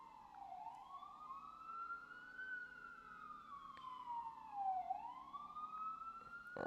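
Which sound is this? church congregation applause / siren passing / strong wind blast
siren passing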